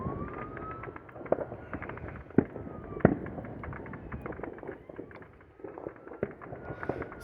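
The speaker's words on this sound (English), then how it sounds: "somebody's fireworks might have got a little out of control" Fireworks pop and crack at a distance over a trailer park at night, with three sharper bangs standing out above a restless background rumble.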